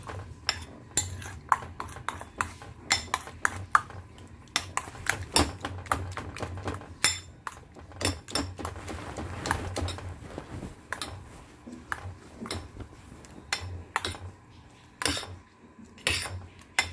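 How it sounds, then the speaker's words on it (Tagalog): Three eggs being whisked in a bowl for a mushroom omelette, a quick irregular clatter of utensil taps against the bowl that keeps going for many seconds, close and moderately loud, with no speech. "Ayan, imimix na natin dito yung egg."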